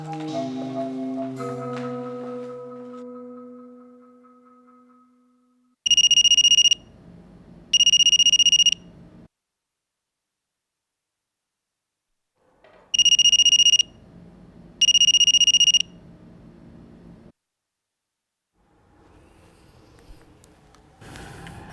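Telephone rings at a home switchboard-style landline, two bursts of two bright electronic rings each, separated by silence, loud and close with no talk over them.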